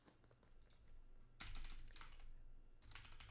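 Soft, quick clatter of keys on a computer keyboard, a run of close taps with a louder burst midway and another near the end, no voices.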